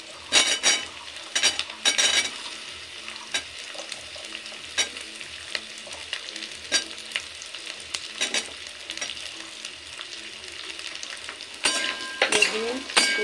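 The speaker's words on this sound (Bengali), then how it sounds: "বিনস, ফুলকপি, গাজর সমস্ত সবজি একসাথে একটু নরম করে ভেজে নেব।" Beans, cauliflower and carrots frying in a pan while being stirred, a close, continuous sizzle broken by repeated scraping and clinking of a spatula against the pan.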